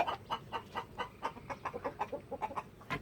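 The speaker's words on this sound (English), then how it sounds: "was curious to know whether chickens like to eat tomatoes" Chickens cluck while pecking at tomatoes, a rapid run of short, close clucks in an irregular rhythm, fairly soft and with no talking over them.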